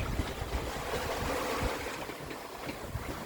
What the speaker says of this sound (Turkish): Dalgalar biraz azaldı. Ama arada büyük haydut dalgalar var.